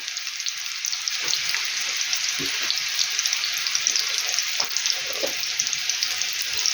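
Onion frying with young potatoes in a frying pan gives a steady, close sizzle throughout, broken by a few soft scraping stirs.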